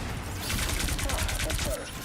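Rockets firing in a team-based video game, a rapid series of sharp launches and bursts packed into about two seconds.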